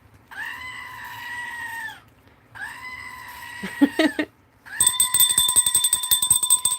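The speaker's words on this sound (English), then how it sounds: "I'm all shaking the goat. No wonder why it's screaming." A toy screaming goat bleats two long, loud, humanlike cries, then gives a harsh rattling scream with a buzzing tone as it is shaken.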